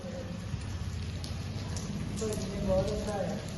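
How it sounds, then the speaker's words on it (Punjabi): Hailstones fall in a steady, fairly faint patter outdoors while a person talks over the continuous ticking. "ਕਿੰਨੀ ਤੇਜ਼ ਗੜੇ ਪਏ ਟਕ ਟਕ ਟਕ ਟਕ"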